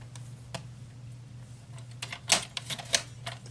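A paper trimmer cutting card stock, heard as a sequence of close clicks and sharp snaps with a couple of louder strikes near the end, over a low steady hum.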